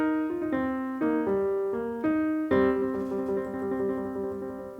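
Blues piano riff mixing intervals, single notes and tremolo, played solo and close, with bright struck chords followed by sustained ringing notes and a shimmering repeated figure at the end.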